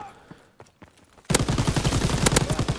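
Light machine gun fire in a first-person shooter game comes after a quiet stretch of faint footsteps and clicks, then breaks into a loud, fast, continuous rattling burst that runs to the end.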